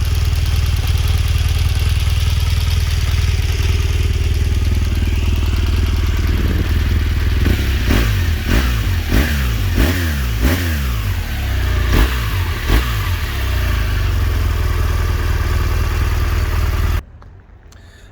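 A 2016 BMW R 1200 GS Triple Black motorcycle idles loudly up close, then its boxer engine is blipped through a series of sharp revs that rise and fall before cutting off near the end.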